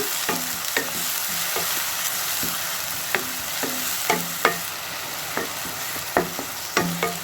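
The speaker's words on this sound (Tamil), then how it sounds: "நல்லா ஆனியன் வந்து கோல்டன் ப்ரௌன் கலரில் லைட்டாக வர வரைக்கும் வதக்குங்க" Ground onion and green chilli paste sautéing in a pan, a steady close sizzle broken by a dozen or so sharp scrapes and taps of a spatula against the pan at irregular intervals.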